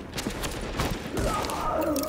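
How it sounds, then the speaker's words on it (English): Gunfire from the video game The Division, rapid sharp shots and bursts at close range filling the moment alongside a player's voice, with a steady crackle throughout. "Nice gunshot to the leg"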